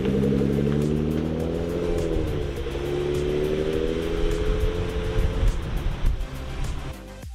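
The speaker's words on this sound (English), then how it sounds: "let's roll the car out of the garage" A Hyundai Santa Cruz pickup with a freshly installed Eibach lift kit rolls out of a garage, its engine giving a steady low rumble with a slight rise in revs. The sound stays continuous and fairly loud before easing off at the end.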